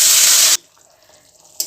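Hot water pouring forcefully into frying moong dal lentils, a loud close gush that stops abruptly after half a second, then near silence before a brief splash returns.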